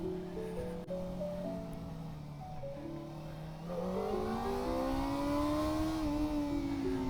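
A Kawasaki ZX4RR motorcycle rides through the streets of Kyiv. Its high-pitched inline-four engine drones close, dips slightly, then revs upward and climbs through the gears, with wind rush behind it.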